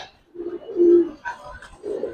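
Giribaz and coloured pigeons at a pigeon farm coo in soft, low throaty phrases, a couple of rolling calls close by in otherwise quiet surroundings, with no talk.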